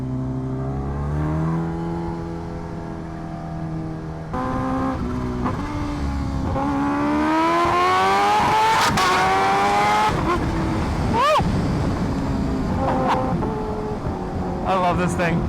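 Kawasaki H2R motorcycle accelerating hard at speed on a rough road, engine pitch climbing steadily through the gears with loud wind rush and brief shift dips, close and continuous.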